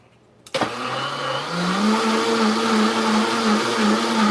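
A Vitamix blender kicks on with a sharp click and ramps up into a loud, steady motor whine as it spins water to rinse the jar clean, running continuously and close by.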